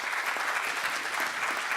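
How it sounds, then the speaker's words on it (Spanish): An audience applauds a speaker at a consumer protection event in Peru, even and continuous clapping heard somewhat distantly and fairly faint, with no voices over it. "Así que un aplauso también para el doctor Garteche"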